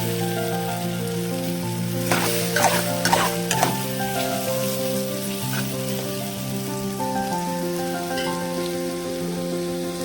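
Thinly sliced potatoes fry steadily in a kadai of hot oil, a dense continuous sizzle with a few louder crackling bursts early on, heard up close with no talking.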